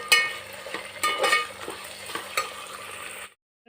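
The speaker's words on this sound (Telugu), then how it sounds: "వీటిని అయితే పచ్చివాసన పోయేంత వరకు వేయించుకోవాలి." Ingredients for mushroom biryani fry in a pan, giving a close, continuous sizzle broken by the scraping of stirring, before the sound cuts off abruptly.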